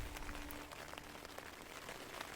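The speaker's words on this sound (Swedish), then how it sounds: "drog plötsligt en regnskur in som jag nu kunde njuta av innanför tältet" Steady rain shower patters on a taut tent, heard from inside, a dense soft hiss of drops close by with no voices, continuous throughout, in Tiveden National Park.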